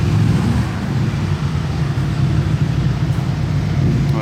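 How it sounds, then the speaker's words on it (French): Ford Mustang engine roaring loudly at a supercar gathering, a continuous deep rumbling drone that stays heavy and steady throughout with no talk over it. "Mustang infernal."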